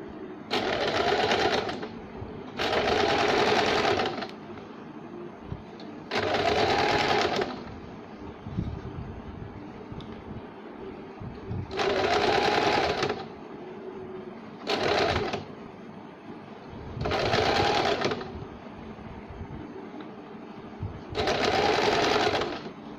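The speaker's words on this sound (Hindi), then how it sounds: "इस तरह सिलाई लगाएंगे।" Sewing machine stitching piping onto a baby bib, seven or eight close, steady bursts of rapid whirring stitching separated by short pauses, with no one talking over it.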